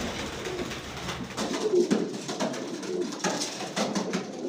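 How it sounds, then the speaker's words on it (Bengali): About thirty white pigeons coo together indoors, a layered, continuous chorus of soft throaty calls close by, with a slightly louder swell partway through and no talking. "দেখছেন কতগুলো কবুতর"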